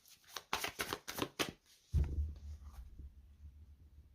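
A deck of tarot cards is shuffled with several quick riffling bursts close by, then a soft thud and low rustle as the deck is cut and set down, no talk.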